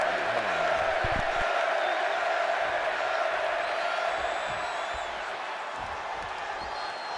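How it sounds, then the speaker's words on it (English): An arena crowd in Chicago roars in the WWE 2K26 wrestling video game as CM Punk squares off against Eddie Guerrero. It is a dense, steady wall of cheering that fills the whole stretch and eases off slightly toward the end. "And just listen to this crowd here in Chicago."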